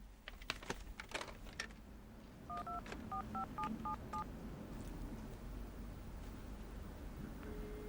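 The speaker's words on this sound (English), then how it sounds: "Rose, get me Grace on the satellite phone right away." A satellite phone being dialed gives a quick run of about six clear keypad tones in a row. Clicks and handling sounds come before them, and a quiet steady background hum runs underneath.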